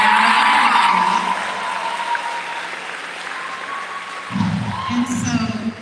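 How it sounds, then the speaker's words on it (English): Applause at an 8th grade commencement for a new principal, a loud wash of clapping at the start that thins into lighter scattered claps, with a voice speaking near the end. "So let's give her a round of applause."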